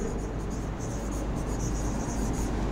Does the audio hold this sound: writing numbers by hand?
yes